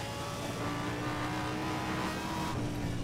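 An Audi R8 LMS Ultra race car's engine in Need for Speed World holds a steady loud drone with layered harmonics, shifting pitch briefly near the end of the short burst.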